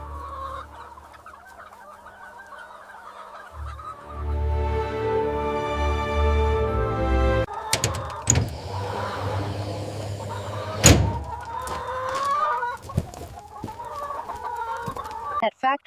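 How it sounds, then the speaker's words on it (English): Certified organic chickens on a pasture farm cluck and call in overlapping bursts, close and fairly loud, with sharp squawks and shifting background noise and no clear talking. "our certified organic chickens range freely across the pasture, ensuring genuine welfare excellence."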